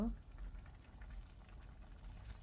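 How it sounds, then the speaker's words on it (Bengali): Low, quiet bubbling of water boiling in a pan with pumpkin stems and prawns, a soft steady simmer throughout with a brief faint voice at the very start. "জলটা অ্যাড করে কিছুক্ষণ আমাকে ফুটিয়ে নিতে হবে দেখতেই পাচ্ছ"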